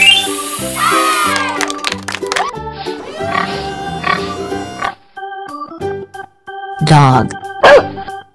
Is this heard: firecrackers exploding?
no